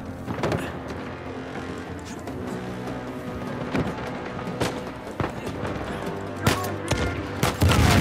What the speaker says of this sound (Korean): 위로 올라가서 한번 쏘고 가자.